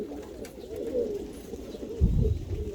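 Hungarian pigeons coo steadily in a loft, a low repeated murmuring rising into a louder burst of cooing and flapping near the end as the birds chase each other.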